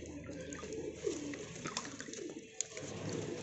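Soft pigeon coos repeat close by while the pigeons are bathed in water, low and throaty, over a faint background hum.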